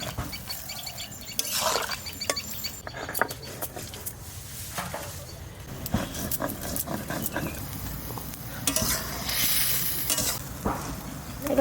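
Eggplant pieces frying in a pan, crackling and spattering while being stirred, with scraping of the utensil and bursts of louder sizzle close by.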